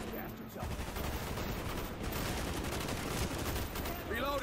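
Sustained gunfire in Call of Duty Black Ops, with continuous rattling bursts and shots layered into loud, busy battlefield noise that never lets up.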